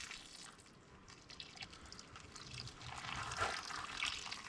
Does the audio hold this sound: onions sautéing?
no